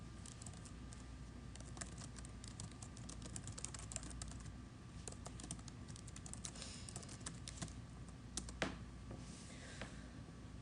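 Code is typed on a computer keyboard in the Eclipse programming environment, a faint, steady patter of quick keystrokes and clicks running throughout with no pauses.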